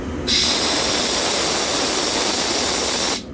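Air hisses hard from a coolant line being bled, a loud, broad, steady rush that cuts in abruptly, holds unbroken for about three seconds and stops sharply, with no talking.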